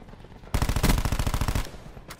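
Rapid automatic AK rifle fire in a shooter video game, a dense burst of about a second of loud, evenly spaced cracks over low rumble, followed by a brief trailing shot.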